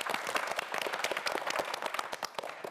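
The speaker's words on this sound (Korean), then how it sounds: "하우정 학생에게도 큰 박수 부탁드립니다" An audience on a student quiz show claps for a contestant, with brisk, dense applause made of many distinct hand claps, fairly close and sustained to the end.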